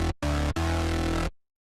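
Dry synth preset with reverb and high-pass filtering removed, heard as three loud, full-bodied sustained tones with a dense low end, cut off abruptly into silence.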